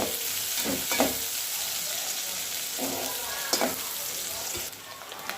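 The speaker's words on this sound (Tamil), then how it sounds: "எண்ணெய் ஊற்றினதுக்கப்புறம் நம்ம நறுக்கி வச்சுருக்க வெங்காயத்தை அதில் சேர்த்துக்குவோம்" Steady crackling sizzle of onions frying in hot oil, with occasional stirring clatters over the continuous hiss.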